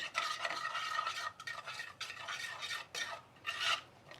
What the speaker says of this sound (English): you can start stirring until it's melted and blended, all the ingredients